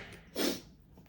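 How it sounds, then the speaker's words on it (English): A single short, sharp sneeze bursts out close to the microphone in a quiet indoor room, lasting well under a second. "sorry about that sneeze"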